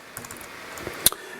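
Brief burst of typing on a computer keyboard, a handful of soft, close key clicks in an uneven rhythm ending with one sharper tap, at a moderate level with no talking.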